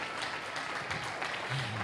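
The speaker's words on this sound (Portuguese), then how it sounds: "Se eu fosse você, dava um aplauso ao Senhor" A church congregation applauds, a continuous wash of many hands clapping heard at a moderate distance, steady and even, with faint voices mixed in underneath.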